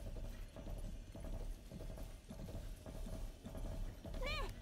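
Horse hooves clip-clopping in a steady rhythm in the video game Relics of the Past, close and continuous, ending with a short whinny near the finish.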